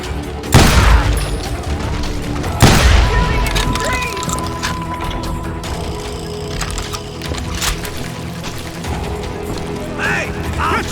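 Heavy gunfire and booming shotgun blasts in the Western shooter Call of Juarez: Gunslinger, with two big close blasts near the start, then a steady stream of scattered shots and impacts.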